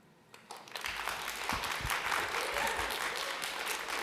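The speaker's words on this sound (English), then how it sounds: "please hold your applause" Applause breaks out in a city council committee room at New York City Hall, rising quickly from quiet into sustained, dense clapping from a crowd that keeps going to the end.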